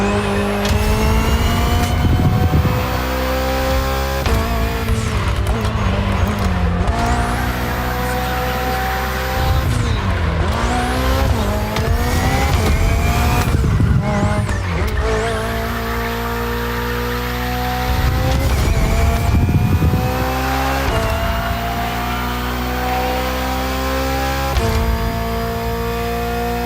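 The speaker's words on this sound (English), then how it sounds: "The hybrid V8 will do the rest." Hybrid V8 race car in The Crew Motorfest roaring loudly and continuously, revving up through gears with repeated upshifts, drops and brief tire squeal, close and dominant with no talk.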